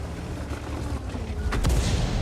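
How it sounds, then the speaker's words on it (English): A nearby explosion in the tank battle game World of Tanks booms low and heavy after a rumbling buildup, the blast landing sharply near the end over continuous battlefield noise. "Yeah, you see that explosion was nearby."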